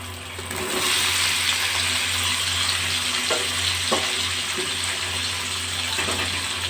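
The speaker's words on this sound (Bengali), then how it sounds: "আলু পেঁপে সোয়াবিন ভেজে রেখেছিলাম ওইগুলো দিয়ে দেবো" Fried potato, papaya and soybean pieces drop into sizzling masala in a pan, and the frying swells into a steady, loud hiss with a few soft clinks of a utensil against the pan, and no voices.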